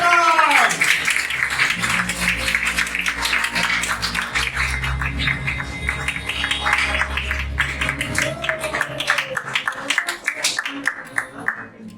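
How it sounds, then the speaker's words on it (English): Seminar audience clapping to welcome the next presenter, a steady stream of hand claps lasting throughout, with a voice speaking over it on a sound system. "louder round of applause to welcome our next sharer"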